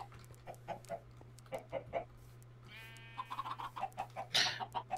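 Chickens in Minecraft cluck in short repeated bursts through the clip, with a steady low hum underneath and a brief sharper noise near the end.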